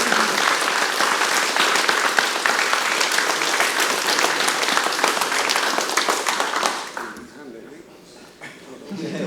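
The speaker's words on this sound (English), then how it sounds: "Give Jamie Rowe a big round of applause, guys!" An audience at a martial arts seminar and belt promotion gives a big, loud round of applause that runs steadily, then fades away toward the end as a voice starts speaking over it.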